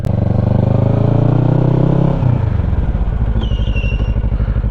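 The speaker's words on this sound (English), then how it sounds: "I'm gonna show y'all what happened if you hit the rear brake hard and not progressively" A motorcycle engine runs loud and close, its steady harmonic drone dropping and chugging as the rear brake is hit hard with the clutch held, then settling into a low uneven idle.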